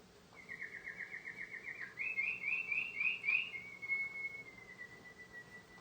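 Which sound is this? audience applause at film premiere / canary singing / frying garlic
canary singing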